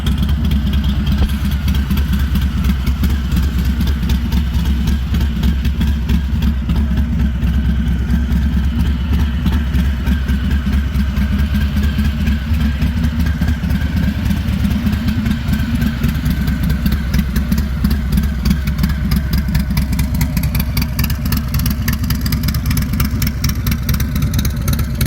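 A 2020 Harley-Davidson Sport Glide FLSB idles with a steady deep rumbling throb, loud and close, its pulsing beat even throughout with no talk.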